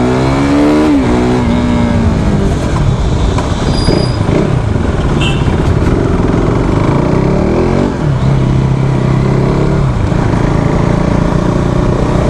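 A KTM RC390 sport motorcycle engine runs loud and close throughout a ride, with a steady roar that rises and falls with revving, mixed with wind rush.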